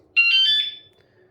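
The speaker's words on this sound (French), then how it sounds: "je vais vous montrer un petit peu l'alarme. Effectivement, j'ai une alarme sur ma MBK 51." A moped alarm on an MBK 51 sounds once, loud and close, as a steady high electronic tone with harmonics lasting under a second.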